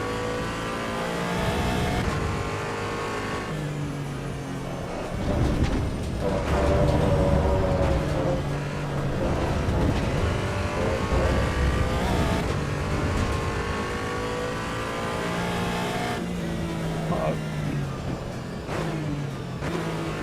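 Porsche race car engine in the Assetto Corsa EVO racing game, revving loudly and continuously with shifting pitch as gears change, brief tire squeal mixed in, no talk.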